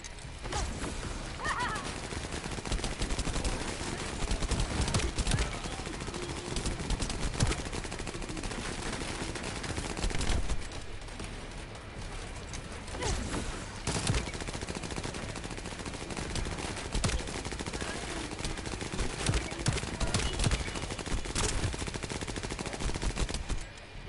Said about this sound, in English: It's too slow shooting.